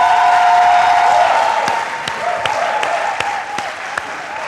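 Applause and light cheering from a studio audience at a televised quiz competition, loud at first then thinning to scattered claps, with a tonal hum underneath.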